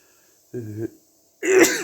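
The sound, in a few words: sneeze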